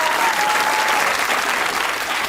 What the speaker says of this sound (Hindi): जिस तरह लड़कियों ने तालियां बजाई हैं